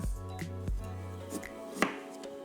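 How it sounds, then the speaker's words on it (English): A knife cuts a carrot into slices on a board, with several sharp, close clicks spaced unevenly apart against a steady background hum. "So the first thing I'll do is I'll cut my carrot."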